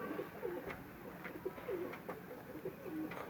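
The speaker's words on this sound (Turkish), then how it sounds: "Kuşlarımız var arkadaşlar." Pet pigeons coo softly in repeated short, rolling calls close by against a steady low background hum.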